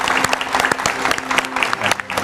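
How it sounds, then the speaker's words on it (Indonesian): A television talk show studio audience applauds guests, with dense, steady clapping from many hands close by and a faint tonal hum beneath it. "Tepuk tangan yang meriah untuk narasumber saya pada malam hari ini."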